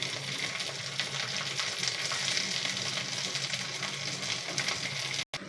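Khichuri with fried hilsa fish and fried eggplant sizzles steadily in a pan, a continuous close crackle of frying with faint stirring and no speech.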